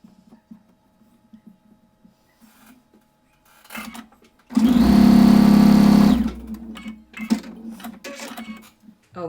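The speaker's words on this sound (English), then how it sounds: "sew the other side on." Sewing machine stitching fabric to join the other side of a quilt block, a single close burst of steady, even motor whirring lasting about two seconds, set between quiet handling noises.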